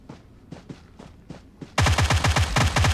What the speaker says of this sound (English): I can hear some gunfire.